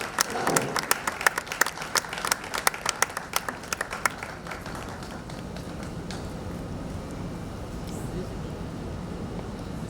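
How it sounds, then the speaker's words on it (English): Audience applause at the Lagos State Law Week opening ceremony for the Attorney General and Commissioner for Justice, starting as sharp scattered claps that fade over the first half into a steady murmur and room noise. "I would appreciate a round of applause for the Attorney General and Commissioner for Justice of Lagos State"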